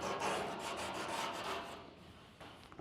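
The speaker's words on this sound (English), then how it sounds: "Just a hand file will probably do that, or the sandpaper." A hand file rasps flash off a part for a 1973–1979 Ford F100 truck bed, a quick run of dry scraping strokes close by and fairly quiet, fading near the end.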